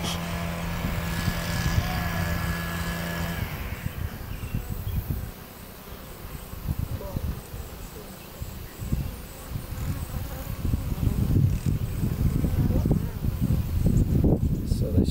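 Honeybees buzzing around a hexagonal hive outdoors, a steady close insect drone throughout, with people talking over it for much of the time.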